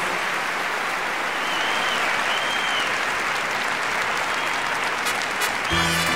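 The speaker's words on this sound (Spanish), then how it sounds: "¡Ese aplauso!" A large concert audience at the Navarra Arena in Pamplona claps in a sustained, even roar of applause, with a faint tone drifting through and a brief clatter at the very end.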